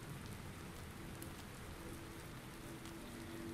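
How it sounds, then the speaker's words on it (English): Steady rain in the war survival game This War of Mine, a dense even hiss of drops on surfaces that continues without a break through the whole moment, with no voices over it. "Oh, is that raining?"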